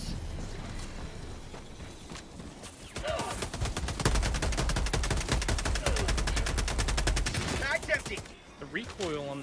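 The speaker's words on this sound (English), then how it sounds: "Recoil on this SMG is quite atrocious" Rapid submachine gun fire in a co-op shooter game, bursts rattling steadily for several seconds amid explosions and other game noise, with voices talking over the action.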